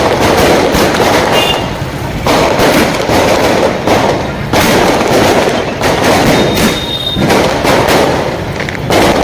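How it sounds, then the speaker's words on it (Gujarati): Firecrackers burst continuously in a town square in Kodinar during a BJP victory day celebration, a loud, dense barrage of overlapping cracks and bangs with brief lulls between clusters. "શહેરમાં સમસ્ત ચોકની અંદર ફટાકડા ફોડી રહ્યા હોય"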